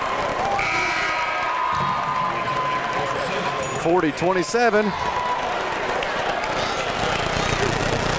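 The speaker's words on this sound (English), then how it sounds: "And there's a big crowd in here, Jerry." Crowd noise fills a high school boys basketball gym during a game, a steady roar of voices with some cheering, while a commentator talks over it throughout.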